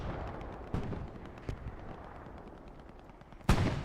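Strafe run gunfire in the console game Hell Let Loose, with distant booming bursts at intervals and a loud sharp blast near the end over a low rumbling battlefield bed.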